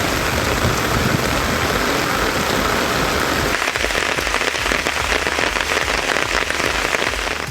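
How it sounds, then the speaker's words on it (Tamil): Heavy midnight rain pours steadily in Tamil Nadu, a dense loud hiss of drops drumming on surfaces throughout, with no voices. "நள்ளிரவில் இடியுடன் கூடிய கனமழை குட்டி தீர்த்தது"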